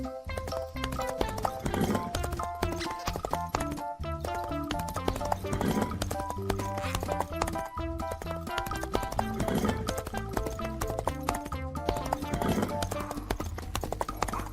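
Horse hooves clip-clopping at a steady gallop, a rhythmic clatter under continuous layered background music, with narration heard over it.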